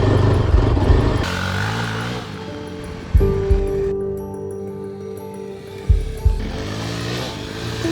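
A Yezdi motorcycle engine runs steadily with revving shifts and gear changes during a test ride, loud and close, with some wind and road noise.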